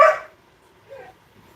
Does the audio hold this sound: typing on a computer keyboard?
no